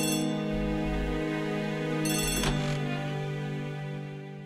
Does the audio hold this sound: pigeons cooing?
no